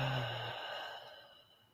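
A single long, audible exhale through the mouth during a guided meditation breathing exercise, starting loud and close and slowly trailing off as the breath empties.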